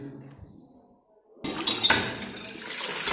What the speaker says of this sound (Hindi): देहात के जो नलके हैं ऐसे नलकों का उपयोग किया जाता है पानी निकालने के लिए